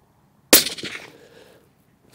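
A Sako 90 Peak Carbon rifle fires a single loud shot with a 136 grain bullet, a sharp crack that rings briefly and decays over about a second outdoors.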